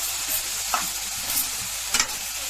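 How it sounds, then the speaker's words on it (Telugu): Mutton curry with turmeric is stirred in a hot pan, giving a close, steady sizzle broken by a few scraping strokes of the spoon. No voices. "కొంచెం పసుపు వేసుకోవాలండి. బాగా కలబెట్టాలి"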